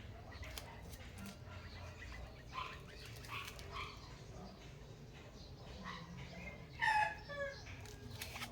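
A rooster crows briefly amid steady outdoor background noise, with scattered faint clucks and barnlike sounds throughout.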